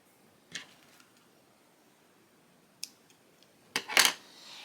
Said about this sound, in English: So now that that's all fastened, I'm going to cut that little remainder tail off.